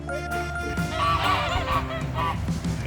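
Free-ranging geese honk loudly and repeatedly on a farm, their calls close and overlapping with other fowl noise in the background.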